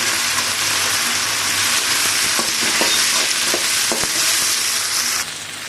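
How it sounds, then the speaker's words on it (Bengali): Long beans and potatoes frying in a wok, loud steady sizzle with repeated stirring scrapes and clatters, easing slightly at the end. "এই কেটে ধুয়ে রাখা বরবটি কড়াই আর আলু দিয়ে দিচ্ছি।"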